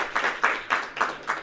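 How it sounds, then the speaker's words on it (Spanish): Five slow, evenly spaced bursts of clapping at a UNESCO Latin America and Caribbean week event, each sharp hit fading quickly, moderately close and fairly quiet. "un aplauso"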